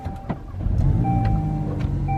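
A car starts with a keyless push-button start, short chimes and a brief crank followed by the engine settling into a steady low idle, close by with faint electronic beeps.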